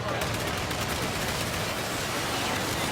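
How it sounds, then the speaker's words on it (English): A Terran Mosquito in a video game fires a full volley into a heavily armoured vehicle, a continuous loud barrage of rapid gunfire and broadband noise lasting several seconds. "it actually ended up taking a full volley there from a Terran Mosquito that flies dangerously close"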